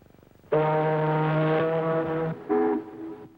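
Someone mimics a ship's horn with a deep, steady blast, then a shorter second honk, loud and close.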